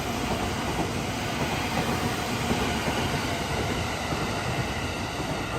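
A night sleeper train rolls past at Kyoto Station, its steady broadband rumble and rail clatter filling the whole stretch at a constant, fairly loud level with no talk over it.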